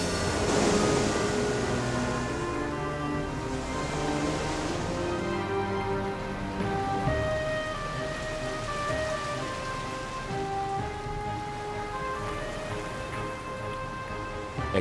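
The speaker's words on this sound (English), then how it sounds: "The rain covered the whole earth." Steady, dense cartoon rain patters continuously in a soft wash of droplets, with a gentle musical score underneath and no voices.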